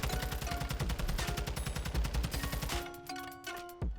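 Automatic weapon firing in Modern Warfare 2, a rapid continuous burst of loud shots lasting nearly three seconds, followed by a couple of brief short bursts.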